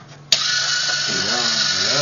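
A homemade robot built inside a cookie tin, its small electric motor whining steadily after a sharp switch-on click, a continuous high buzzing hum that fills the rest of the moment.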